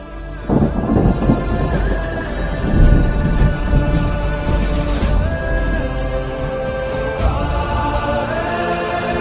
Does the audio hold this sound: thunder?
yes